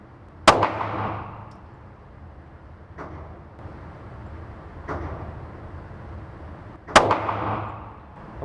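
Handgun shots ring out at a shooting range, two sharp loud cracks with ringing tails about six seconds apart and fainter distant reports from other shooters in between.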